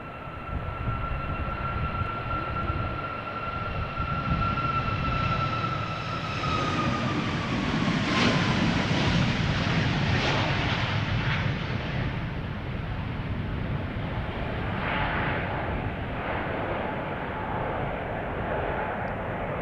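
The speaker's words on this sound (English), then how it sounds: "TUI Max 8 going to Lanzarote" A two-year-old TUI Boeing 737 MAX 8 airliner at Schiphol Airport departing for Lanzarote, its engines a loud, steady roar with a whining tone that sweeps downward as the jet passes close by and continues rumbling.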